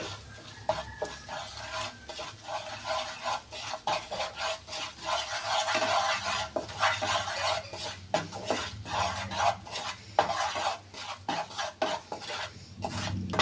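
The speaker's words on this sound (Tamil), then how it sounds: "இந்த கடலை மாவை இந்த நெய்யிலேயே இது கலர் மாறுற வரைக்கும் நம்ம ஃப்ரை பண்ணிக்கணும்" Gram flour frying in ghee while a spoon stirs it round a pan for watermelon rind halwa, giving steady scraping and rubbing with frequent sharp clicks of metal on metal, close and fairly loud with no talking.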